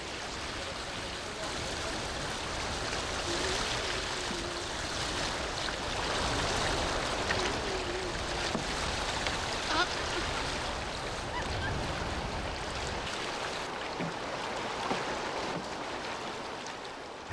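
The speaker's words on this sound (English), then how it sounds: "The sound of the waves breaking on the reef is incredible." Waves break on a reef in the heart of a lagoon, a broad continuous roar with some swells and wind. It is heard from a small sailing boat, with no talk.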